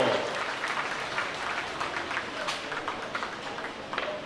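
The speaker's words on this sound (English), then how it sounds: "Hey, Bob Raven, give him a round of applause." A crowd applauds after an antique tractor pull at an outdoor old-threshers show, a steady distant patter of clapping at moderate level without talk.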